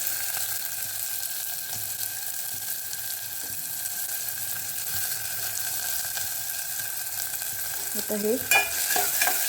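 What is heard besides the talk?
onion and tomato frying in oil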